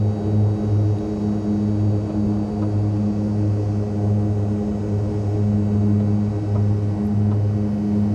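Steady droning propeller aircraft engine in Microsoft Flight Simulator 2020, a continuous loud hum with a strong low tone that holds even throughout, with no talking.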